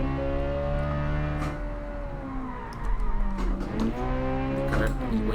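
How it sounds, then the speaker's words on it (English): A Group B rally hatchback in a racing game drives with its engine droning steadily, and its tires squeal and slide as the car understeers through a turn. The sound is sustained and moderately loud, with a brief scrub midway. "The car, when you turn, it just slides."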